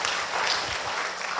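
A church congregation at a student-group dedication service gives a brief burst of encouraging applause, dense and even, heard on its own.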